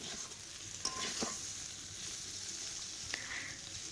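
Baby potatoes frying in a pan, a faint steady sizzle broken by a few short scraping stirs, quiet and close with no talk.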